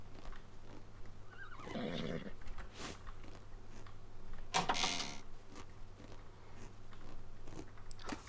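A horse neighs and whinnies in the survival game ARK, loud around two seconds in with a second burst near four and a half seconds, accompanied by faint hoof clops and chewing sounds over a steady low game hum.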